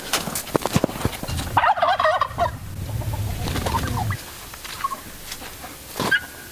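Backyard turkeys gobble in a loud rattling burst among other poultry, with scattered clucks and rustling around a garden flock of guineas, ducks and chickens.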